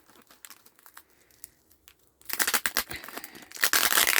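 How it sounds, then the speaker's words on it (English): Crinkling and scraping of tape and plastic up close, quiet at first, then louder tearing and ripping sounds in rapid, uneven bursts. "I think I'm going to have to use my scissors to get this tape up."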